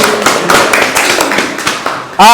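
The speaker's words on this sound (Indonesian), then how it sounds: "tepuk tangan untuk kelompok ini ya sekali lagi" A classroom of students claps for a student group, a dense burst of many hands lasting a couple of seconds before stopping, with a voice starting up right after.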